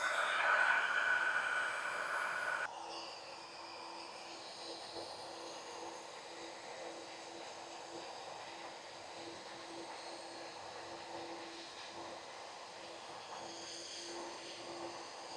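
An 1800W heat gun blows hot air over PVC pipe, a steady whooshing hiss that drops to a lower, softer setting after a louder opening burst and then carries on evenly with a faint hum.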